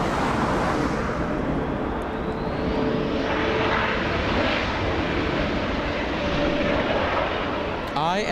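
American Airlines Boeing 787 jet departing LAX for Miami, a loud continuous engine roar with a whine rising and shifting as it passes, steady throughout, with faint voices in the background.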